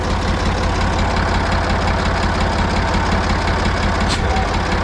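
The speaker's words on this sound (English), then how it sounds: "The tractor's running." A tractor engine idles steadily at close range, a continuous low rumbling throb with an even, unchanging level throughout and no speech over it.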